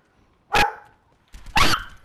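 Two sharp, loud dog barks about a second apart, close by, with quiet between them and no talk over them.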